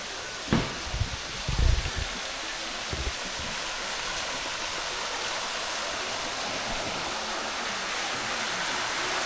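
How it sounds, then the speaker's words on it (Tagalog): A man-made waterfall on Mt. Camisong in Itogon, Benguet gives a steady broadband rushing hiss, with a few brief thumps and handling knocks near the start. "Ito na yung kanilang man-made waterfalls."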